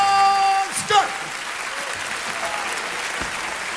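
An audience claps for a magician after a FISM prize-winning act, a loud steady wash of applause that takes over once a brief sung phrase and a voice fade at the start.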